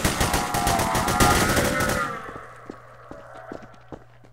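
Rapid gunfire in the video game Hidden: Source, a dense loud burst of rattling shots for about two seconds that cuts off, followed by quieter scattered thuds and ticks.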